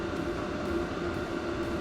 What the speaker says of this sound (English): You can hear the heater going in the background probably.